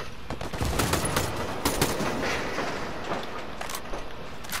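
Continuous rattling gunfire in a Ghost Recon Wildlands desert airfield battle, a steady dense barrage with a few sharper cracks standing out, heard at moderate distance without voices.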